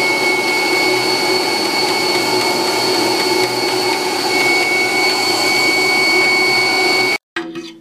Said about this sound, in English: So now we got compressed air going into the petcock.